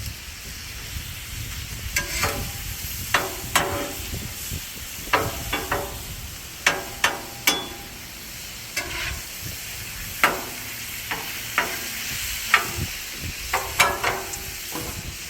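Hoagie bread frying butter side down on a hot Blackstone griddle, a constant sizzle with repeated sharp metallic spatula clicks and scrapes spread across the griddle, no talking.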